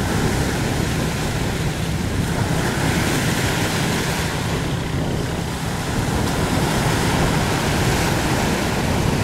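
Rough sea waves pound an iron boat out on open water, a loud, continuous roar of surf and wind noise with no letup.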